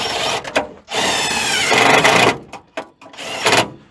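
A power drill drives self-tapping screws to mount a starter solenoid on a 1981 Ford F100 with a 351W engine, giving several loud, close bursts of whirring and grinding separated by short pauses.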